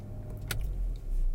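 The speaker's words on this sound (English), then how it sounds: "Vehicle now starts" A Range Rover Velar fires up once its Ghost 2 immobiliser PIN is accepted: a short sharp click, then a low engine rumble that swells and settles into a steady idle, close by.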